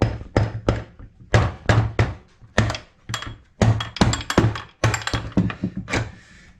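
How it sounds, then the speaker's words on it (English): Heavy hammer blows strike a motor mount to free a stuck part, landing in a steady, rapid series of loud, close metallic thunks with no talking. "Those were some pretty hard blows."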